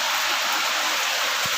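Rain falls in a village as a dense, even hiss of steady downpour, loud and close, with no voices over the brief stretch.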